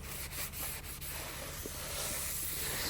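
Brake parts for a 2019 Peugeot 308 rubbed clean with brake cleaner, a close steady hissing and rubbing with a few sharper wiping strokes early on.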